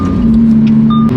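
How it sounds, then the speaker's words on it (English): Naturally aspirated V10 car engine holding a loud, steady drone up close with a sharp blip near the end, consistent with a downshift, alone without talk. "those downshifts are ridiculous"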